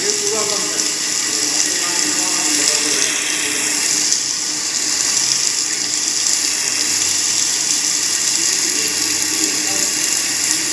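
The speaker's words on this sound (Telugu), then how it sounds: "వాటర్ వస్తూనే ఉన్నాయి కంటిన్యూస్గా చుట్టుపక్కల నుంచి" Water pours in steadily from all around inside a tunnel, a dense, unbroken rushing roar that stays loud and even throughout with no pauses.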